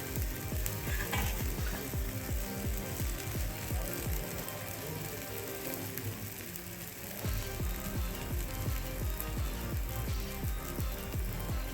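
Mung dal edani frying in oil in a pan, a dense, continuous sizzle with crackling bursts throughout, close and loud, no one talking.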